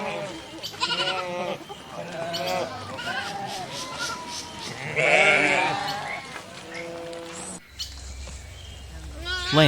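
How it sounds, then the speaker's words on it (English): Sheep bleat close by in wavering, drawn-out calls, several overlapping voices repeating through the stretch with a short gap near the end. "sheep"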